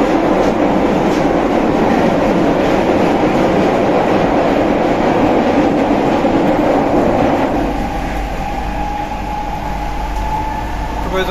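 A metro train rumbles loudly and steadily with a broad roar at Garden Node station, then the noise eases and settles into a lower, quieter hum as it slows.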